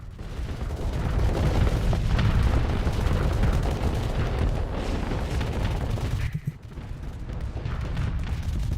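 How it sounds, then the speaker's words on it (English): Rockets firing and exploding during a space battle in the game Starsector, a dense continuous rumble of booms and blasts with a brief dip near the end. "I forgot those are rockets"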